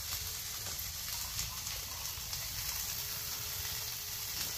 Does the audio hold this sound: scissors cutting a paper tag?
no